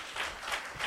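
A church congregation claps during a Telugu Christian sermon, a short, fairly faint burst of applause with a few rhythmic hand claps.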